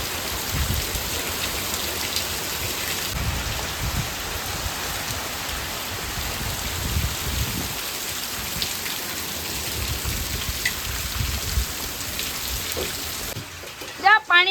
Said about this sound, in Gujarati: બારે વરસાદ વરસતો ને અંદર વરસાદ વરસતો